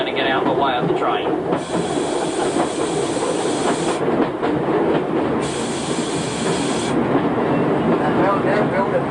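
A train passing close by on a British railway line near the site of a former signal box, a loud, steady rumble of wagons with hissing and rail clatter sustained throughout, with no speech over it.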